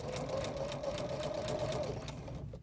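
A sewing machine runs continuously, stitching through fabric with a steady rapid mechanical rhythm that fills the clip before easing off at the end; no one speaks.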